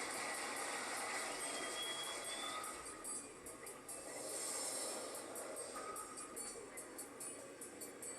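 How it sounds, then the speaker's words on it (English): A train passes through a crossing near a Plainfield storefront, a steady rumbling roar with metallic wheel hiss building and easing, carrying on continuously from start to finish. "That's a train coming, confirmed."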